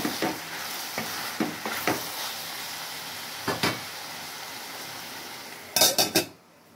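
A brinjal curry is stirred in a frying pan, with a faint steady sizzle under a few scattered spoon scrapes and clinks against the pan and a short burst of louder clatter near the end. There is no talking.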